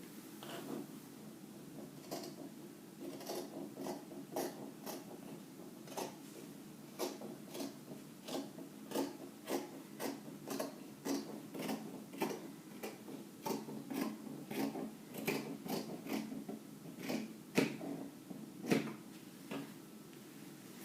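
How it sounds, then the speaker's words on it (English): Scissors trim fabric at the front armhole of a wrap dress, producing a long series of quiet, crisp snips at an irregular but steady pace, close by with no talking. "I'm going to trim it now. I'm going to cut this one off."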